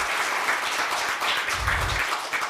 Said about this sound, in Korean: 여러분의 심찬 박수로 시작하도록 하겠습니다